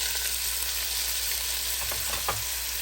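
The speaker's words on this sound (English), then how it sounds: "I'm going to throw my vegetables in because I don't want the butter to burn." Onions, celery and carrots sizzling in hot browned butter, a dense steady frying hiss with a few faint stirring scrapes near the end, close and even throughout, no talking.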